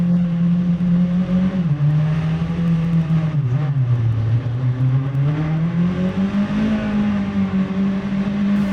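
Tuned Hyundai Avante MD on the Inje Speedium race circuit, its engine a loud continuous in-cabin drone that rises, dips through a corner and climbs again as revs change, with no talk over it.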